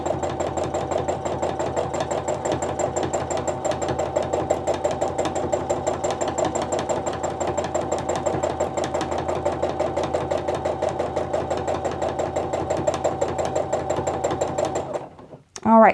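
A sewing machine stitches steadily during free motion quilting of a heart meander design, a fast, even mechanical whir with rapid needle ticks running close and loud before stopping abruptly at the end.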